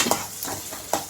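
Dried chilies hit a hot pan and are stirred, with quick scraping strokes over a short burst of sizzling.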